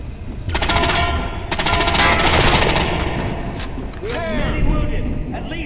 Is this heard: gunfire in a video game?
yes